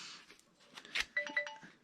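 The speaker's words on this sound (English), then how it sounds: "I, didn't silence my phone" A mobile phone ringtone chimes a few short bright notes toward the end, quiet and close, over faint room sound with no speech.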